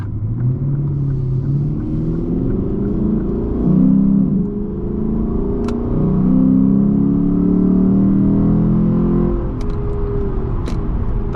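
Lexus GS F, 2016, with a five-liter naturally aspirated V8, accelerating; a deep, smooth engine rumble rises and holds close by, with no talk.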